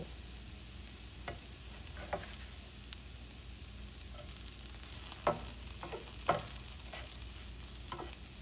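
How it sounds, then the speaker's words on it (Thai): Eggs and okra are dry-stir-fried in a pan, with a soft, steady sizzle and a few louder scraping strokes of the spatula recurring through the stretch, and no talking. "ก็จะคั่วไข่ไปเรื่อยๆแบบนี้นะคะคั่ว คั่วให้ ให้สุกเนาะให้ ให้กระเจี๊ยบเขาสุกเล็กน้อย"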